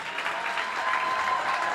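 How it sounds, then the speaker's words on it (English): Audience applauding high school wrestlers at a school event, a thick, sustained wash of clapping from a crowd, steady and loud throughout with no talk. "Let's have another round of applause for the Mules wrestlers."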